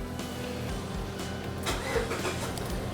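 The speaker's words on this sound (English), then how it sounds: "and the vehicle will start." A Mazda CX with push-to-start fires up through an aftermarket plug-and-play remote start module: a steady low hum, then a brief louder crank-and-catch burst partway through as the engine starts and settles.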